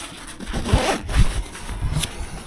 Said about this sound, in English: then there's a regular zipper for the door